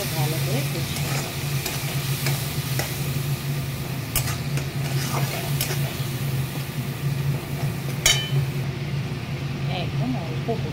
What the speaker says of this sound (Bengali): এইভাবে এটাকে ভালো করে কষিয়ে দিলাম